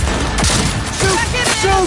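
Dense rapid gunfire from a firefight in the video game Cyberpunk 2077 on PS5, a continuous loud fusillade with bursts of synthetic tonal effects layered over it, filling the whole stretch.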